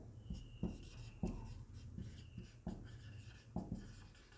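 Pen or chalk writing during a lecture on the Indian Evidence Act, with repeated short scratchy strokes and taps at an irregular rhythm over a steady low room hum, fairly quiet and close.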